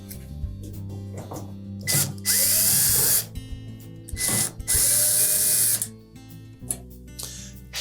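A power drill unscrews screws across the top panel of a Samsung dryer, with short whirring bursts and two longer high-pitched runs between handling clatter and quiet gaps.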